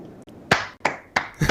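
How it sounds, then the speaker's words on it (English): A slow, sparse golf clap, about four separate hand claps spaced evenly and fairly close, with short gaps of quiet between them. "John, can you give this gentleman a golf clap?"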